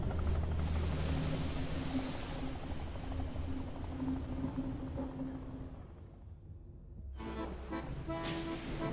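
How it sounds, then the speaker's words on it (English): A helicopter in the fishing game Dredge, rotors already spinning, drones loud and steady, drops out briefly near the end, then returns. "the executive boards his helicopter rotors already spinning"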